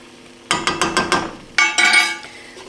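Flour is stirred into melted butter in a pan, with a quick series of six clacking, scraping strokes of a tablespoon against the pan, a pause, and then a few more rapid strokes, close and fairly loud.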